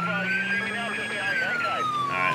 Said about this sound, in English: Let's get our sirens on here.